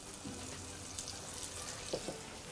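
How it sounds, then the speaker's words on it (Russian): Ciabatta cubes fry in butter with a steady, soft sizzle throughout, a few brief clinks and stirring sounds breaking through near the start and again toward the end. "Жарить я все это буду на сливочном масле."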